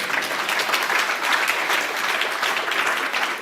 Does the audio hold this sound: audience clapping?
yes